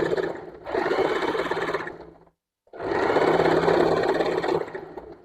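Sewing machine stitching along an overlocked garment seam edge, in two sustained close runs of whirring motor and needle clatter separated by a brief silent pause.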